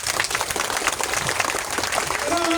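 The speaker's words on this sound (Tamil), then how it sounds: "ஒரு மிகப்பெரிய ஒரு கைத்தட்டல் கொடுக்கலாம்." Audience clapping at a Murugan wedding ceremony at an Adi Lingeswarar temple, a steady dense patter of many hands held at an even level throughout, with a faint tone creeping in near the end.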